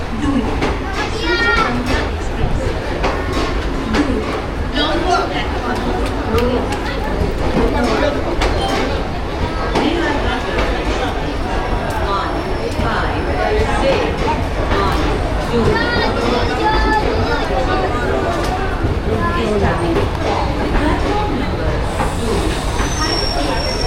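A packed morning train rumbles steadily along the rails, a loud, continuous rolling noise with crowded chatter from many passengers layered on top.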